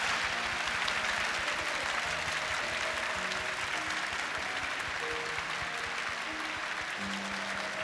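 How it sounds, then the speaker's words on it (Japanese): An audience at a live stage event applauds director Nicolas Winding Refn as he leaves, a steady, even wash of clapping that holds at constant loudness throughout, with faint tones underneath. "皆さん拍手でお送りください。"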